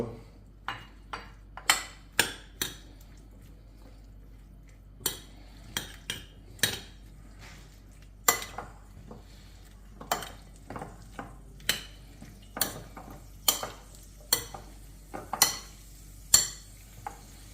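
Utensil scraping and clinking in a pan while white fish is mixed with chermoula for a Moroccan dish, a series of sharp, irregular taps spread across the stretch, close and fairly quiet with no talking.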